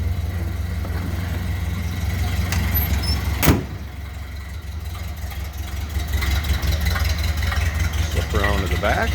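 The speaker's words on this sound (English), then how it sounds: "Sounds very similar to what a Model A would sound like. Smooth runner." A 1929 Ford Model AA truck engine idles smoothly with a steady low rumble throughout, and a brief sharp knock or clunk sounds near the middle.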